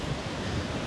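Strong wind buffeting a handheld microphone fitted with a windscreen at a seaside spot, a loud, continuous low rumble with surf-like wash and no speech.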